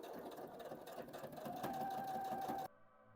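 Sewing machine stitching the underarm seams of a dress, a steady close mechanical whir running continuously before cutting off abruptly near the end.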